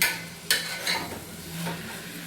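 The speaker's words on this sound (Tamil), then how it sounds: "கத்திரிக்காய் ஒரு 3 மினிட்ஸ் நல்லா இந்த ஆயிலில் குக் ஆகிட்டுங்க" Country brinjal (small tender eggplant) cooking in oil in a pan for a biryani, with a sharp scrape of stirring and a metal clank against the pot over a soft continuous sizzle.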